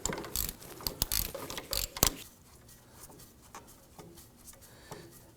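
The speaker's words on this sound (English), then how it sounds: "Now simply going to use our ratchet, and we want to go ahead and loosen and remove this bolt." Ratchet loosening an 18 millimeter pinch bolt on a 2008-2011 Ford Focus front strut, a run of close, sharp clicking bursts, busiest in the first two seconds, then fainter scattered clicks.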